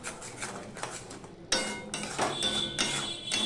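A small spoon stirs sugar into cooking food in a pan, giving close, repeated scraping strokes and light metallic clinks that grow livelier partway through.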